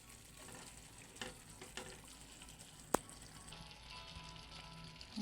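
Chicken liver and gizzard adobo is stirred in a pan, a quiet steady sizzle with soft scraping strokes and one sharp click of a utensil partway through.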